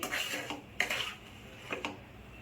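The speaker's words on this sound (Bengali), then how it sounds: "অল্প নেড়ে সুজিগুলো মিশিয়ে" Semolina (suji) and sugar stirred in a bowl, a spoon clinking and scraping against the sides in a few short bursts, close and fairly quiet, with no talking.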